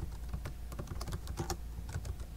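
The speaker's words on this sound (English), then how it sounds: "the first thing you're going to do is just type in the student name" Student name being typed on a computer keyboard, a steady run of close, crisp key clicks with no talking.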